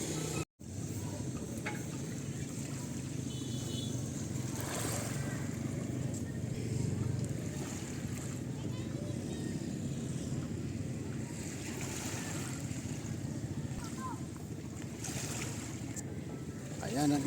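Seashore with boats pulled up by the water, waves washing in a soft continuous rush with wind buffeting the microphone, fairly quiet and steady throughout.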